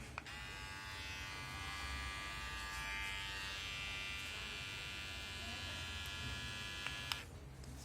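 A Mi beard trimmer (2020 model) runs steadily throughout with a continuous close electric buzz, loud and unbroken, with a faint click near the end.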